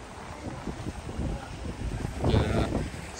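Gusty wind buffets the microphone in a low, rumbling roar at a beach on Boracay, with faint wash of moderate waves in the background.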